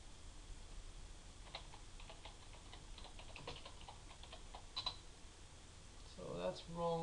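Soft keystrokes on a computer keyboard as a password is typed, a scattered run of light clicks at moderate distance, followed by a brief louder voice near the end.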